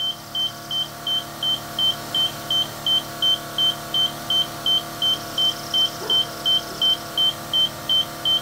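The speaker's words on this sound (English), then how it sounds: "I'm having a little bit of trouble with this compressor. It doesn't seem to have much oomph to it." A 1998 Lincoln Mark VII air suspension compressor runs weakly with a steady mechanical hum. A rapid, regular chime-like beeping pulses over it, close and loud, with no talk.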